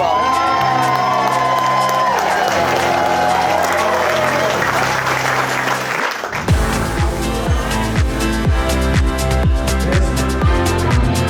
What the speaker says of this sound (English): Can I get a round of applause for Dave and Julie